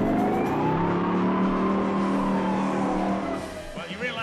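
A car surges away with tires squealing, a long loud screech that holds steady before tailing off into a rougher rumble near the end, staged as a comic radio sound effect.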